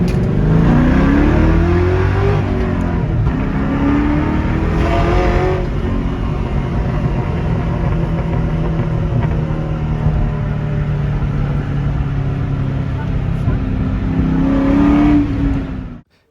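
A Ford Mustang Mach 1 engine revs and accelerates steadily nearby, its pitch rising and falling over a sustained drone, then cuts off abruptly at the end.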